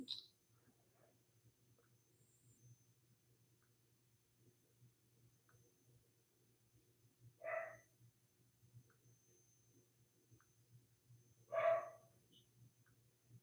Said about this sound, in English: My dog want to go outside